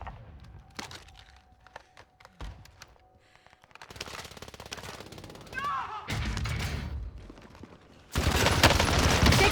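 Gunfire in Call of Duty Warzone Pacific, starting with scattered sharp shots and building to rapid automatic bursts that grow louder and denser, with clattering movement sounds and in-game noise between.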